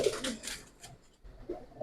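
Pigeons, a mix of Giribaz and coloured breeds including females and Black Budapest birds, coo softly in a loft. A few low, throaty coos come at the start and again near the end, with quiet gaps between them.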